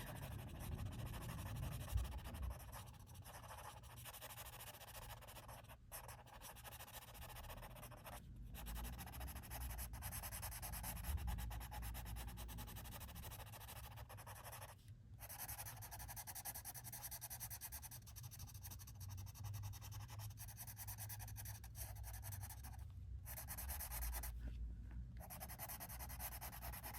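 Prismacolor colored pencil blending on paper: soft, continuous rubbing and scratching strokes, faint and close, with brief pauses between passes, and no talking.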